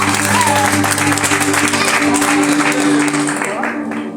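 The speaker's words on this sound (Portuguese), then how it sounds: "Aplauda o nome do Senhor." A church congregation applauds during a Baptist service, a crowd of clapping that fades slightly toward the end, with voices audible beneath it.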